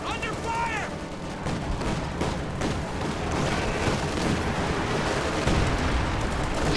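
Incendiary artillery pounds a battlefield in a strategy video game, with dense overlapping booms and bursts of gunfire rumbling continuously at moderate volume under game audio.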